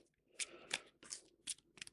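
A deck of board-game item cards is shuffled by hand, giving five quiet, crisp riffling bursts separated by short pauses, close up and without talk.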